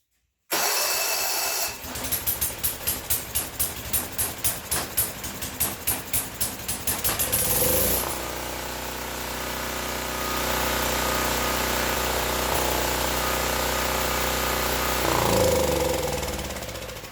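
A Briggs & Stratton generator engine, freshly carb-cleaned, cranks with a rapid rhythmic chugging for several seconds, then catches and settles into a steady, loud running drone that continues to the end.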